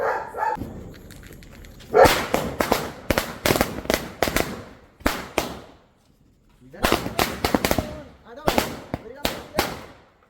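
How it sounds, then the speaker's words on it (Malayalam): Firecrackers going off during a Vishu festival celebration in Kerala: rapid, loud clusters of sharp bangs in two long bursts separated by a short pause, with dogs barking and a voice at the start. "നമുക്ക് ഓരോ പടക്കങ്ങളൊക്കെ കത്തിച്ച് നമുക്ക് പവറാക്കാം വാ"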